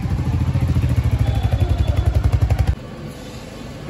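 A Royal Enfield Hunter motorcycle with its front windscreen removed runs nearby with a loud, steady thumping exhaust pulse, then the engine note drops abruptly to a quieter idle-like hum.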